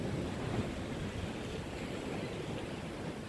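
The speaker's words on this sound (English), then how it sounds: "You guys can hear the waves behind me crash." Ocean waves crash on a beach in a continuous, loud, rumbling wash. Gusts of wind rub against a handheld phone microphone as it moves along, and no one speaks.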